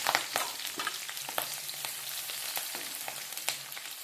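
Onions and green chillies sizzle and crackle steadily in hot oil for a potato chicken curry, with sharp spatula stirs and clinks breaking through the close, continuous frying hiss.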